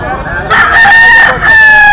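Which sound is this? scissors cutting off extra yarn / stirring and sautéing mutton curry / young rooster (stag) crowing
young rooster (stag) crowing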